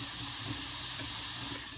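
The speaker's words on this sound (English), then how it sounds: "So we've got our carrots in. They are, you can already, hopefully, you can hear them already sizzling a little bit." Rainbow carrots sizzle in a hot pan, making a steady, close hiss with a faint crackle that stays even throughout and has no talk over it.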